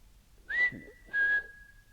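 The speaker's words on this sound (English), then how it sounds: "Copy my whistle if you can." Two sustained whistled tones inside the Peel Building at Salford University, the first rising into a steady pitch and the second holding level, both clear and close against a quiet background.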